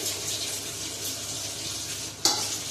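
Water runs and splashes steadily in a sink as ridge gourd peels are rinsed by hand, close and constant, with a sudden clatter near the end.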